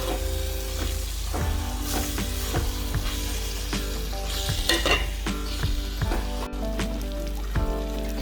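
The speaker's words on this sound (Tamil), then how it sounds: "எல்லா கலவையும் கலந்து நல்ல கூட்டு மாதிரி வந்துட்டு ஒரு 2 நிமிஷம் நான் அப்படி வதக்கி எடுத்தேன்னா" Spice mixture with chili pieces sautéing in a pan for devilled chicken, a steady close sizzle under repeated scraping and stirring strokes throughout, with no talk.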